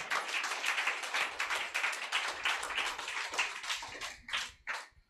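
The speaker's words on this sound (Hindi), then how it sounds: "जोर से ताली मारो।" A church congregation clapping loudly together in fast, rhythmic unison, a dense run of sharp claps that thins into a few scattered final claps.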